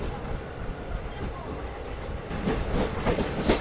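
The Kanchanjungha Express from Sealdah to Silchar rolls across Farakka Bridge, giving a continuous close rumble with rhythmic rail clatter that grows a little louder toward the end.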